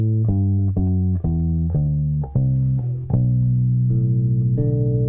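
Low plucked bass guitar notes step downward through a minor scale with a flat second, one after another in an even rhythm, each ringing briefly before the next, ending on a longer held note.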